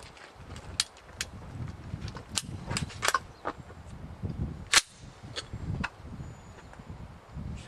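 Guns are fired outdoors on the Fourth of July, with a dozen or so sharp cracks at irregular intervals, some near and loud, others fainter, over wind and rustling.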